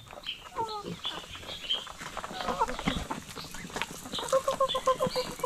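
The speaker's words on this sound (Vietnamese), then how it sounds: "Gà ăn rất là mạnh nhé," Chickens and ducks feed eagerly on corn flour at a rural wilderness homestead, with busy clucking and quacking calls scattered over pecking and shuffling noises, all close and lively.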